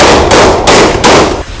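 Three sharp, loud gunshots ring out close by at a shooting drill, evenly spaced about a third of a second apart, each with a short reverberant tail.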